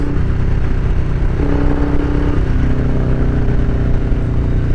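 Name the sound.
2020 Harley-Davidson Street Bob motorcycle engine while riding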